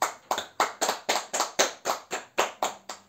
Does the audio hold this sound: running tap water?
no